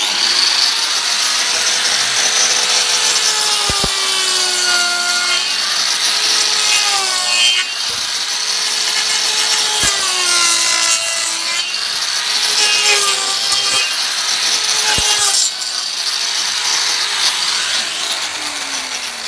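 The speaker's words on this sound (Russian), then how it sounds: "Посмотрим, как он режет дерево после того, как пропилил гвоздь." A GRAFF speedcutter cutting disc on a power tool saws steadily through wood after having cut through a nail, giving a loud, continuous grinding whine with slight pitch wavers and brief dips, close up and with no speech.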